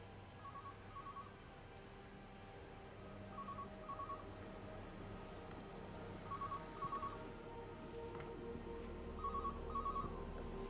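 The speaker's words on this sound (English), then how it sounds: "A phone." An old telephone rings in the video game Everybody's Gone to the Rapture, repeating in regular paired bursts over a low humming ambient background.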